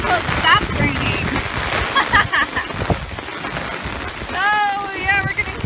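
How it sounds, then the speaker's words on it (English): Rain falls outdoors as a steady wash of patter mixed with wind buffeting the microphone, while children's voices talk and call out over it. "Maybe we have to wait till it stops raining."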